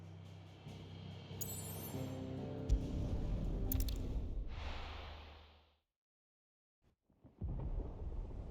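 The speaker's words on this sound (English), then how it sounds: "Sounds like thunder." Thunder in the video game Final Fantasy XVI rumbles as a long, heavy roll that swells and fades into a brief silence, then a fresh low rumble begins.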